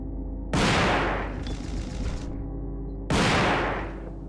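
Two heavy shotgun blasts from the Resident Evil 2 video game, each a loud sudden boom with a decaying roar, spaced about two and a half seconds apart.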